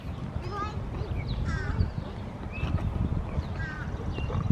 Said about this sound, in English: I hear the crow